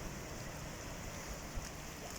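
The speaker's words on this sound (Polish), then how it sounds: "woda płynie" Flood water runs down Turowska Street in Bogatynia, Poland, a faint, steady rushing wash with no breaks across the short stretch.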